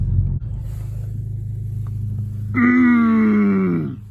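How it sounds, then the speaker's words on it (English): A car idles with a low rumbling hum, then, as it pulls up to a stop sign, a loud tonal engine or brake whine rises sharply and fades away over about a second and a half. "let me just pull up to the stop sign here"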